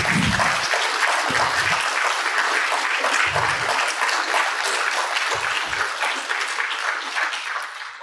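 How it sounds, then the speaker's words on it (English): Sustained applause from a large audience at an association's award presentation, dense and steady across the whole stretch, tapering slightly at the end with no talk. "Please go ahead and clap."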